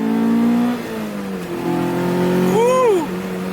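Honda Integra with a B16 engine revving hard and climbing into VTEC, a sharp rising whine that swells loud near the end, heard from inside the car over steady engine drone.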